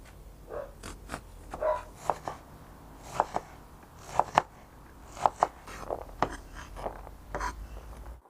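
A knife chops an onion into small cubes on a board, with about a dozen sharp, separate knocks coming in an irregular rhythm. The chopping is close and moderately loud, with no other sound around it.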